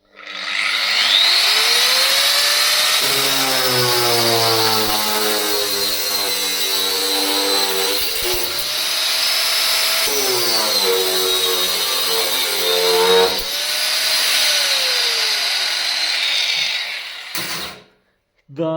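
A GTM AG125/1400VS 125 mm angle grinder spins up with a rising whine, runs at a loud steady high pitch, winds down and restarts twice, then cuts off near the end.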